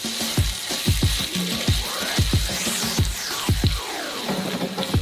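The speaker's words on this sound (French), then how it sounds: "On met tout ça dans le wok. Nos nouilles aux œufs et on remue une dernière fois." Egg noodles tossed in a hot wok crackle with a loud, steady sizzle, while a utensil scrapes and clacks against the metal in quick rhythmic strokes.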